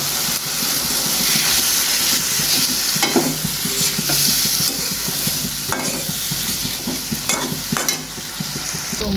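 Spices being stirred into a hot frying pan of meat with garlic, ginger, cumin and chopped onion, a steady sizzle and hiss running throughout with a few louder scraping stirs near the middle.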